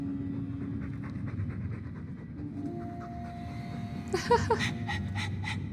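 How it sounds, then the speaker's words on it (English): A dog pants in the video game Dragon Age 2 with quick, rhythmic breaths over a faint sustained background tone. The panting grows louder and sharper toward the end. "All that noisy dog breath,"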